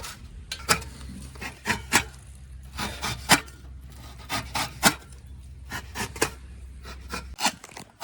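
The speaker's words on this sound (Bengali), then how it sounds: "এখন বাঁধাকপি কাটছি" A knife chops cabbage on a board in quick irregular strokes, a series of crisp, close cutting hits with a low hum underneath.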